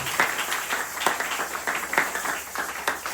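Congregation applauding during a French-language church service, a steady patter of many hands clapping together at moderate volume, with no talk over it.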